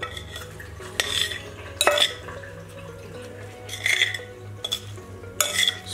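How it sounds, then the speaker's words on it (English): Utensils clink and scrape against a bowl as a salad with purple carrot is mixed, in four or five short close bursts separated by quiet pauses over a low hum. "So this right here is the salad. So just give it a little mix."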